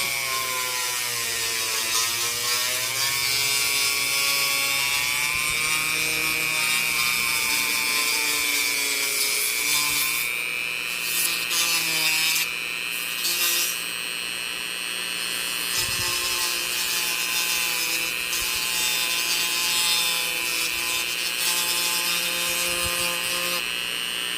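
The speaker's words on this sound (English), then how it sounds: "you gotta keep the stone moving or else it's gonna dig in or start to melt the plastic" Rotary tool fitted with a coarse grinding stone working the plastic rear wheel arch of a Revell 1971 Bronco half cab model kit, a steady high-pitched whine with a rasping, grinding edge that runs continuously up close.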